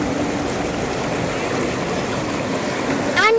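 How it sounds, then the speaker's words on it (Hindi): Clear, fresh river water flows over stones at Maldevta near Dehradun, a steady, close rushing and babbling that continues throughout, with a brief chirpy sound near the end. "यहाँ पे बहता पानी है, इसलिए बहुत फ्रेश पानी है।"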